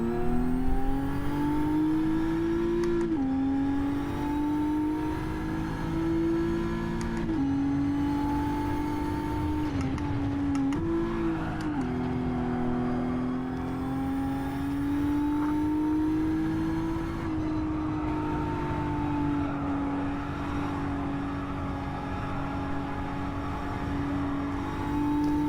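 Race car engine in a racing video game on the Fuji circuit, a loud, steady high-revving whine that climbs through the gears with brief dips at each shift, heard alone with no talk.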